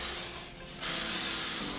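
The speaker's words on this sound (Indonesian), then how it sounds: "kita semprot saja" Pilox aerosol spray paint hissing onto a guitar body from about 30 cm, two steady bursts separated by a short pause, loud and close with no talking.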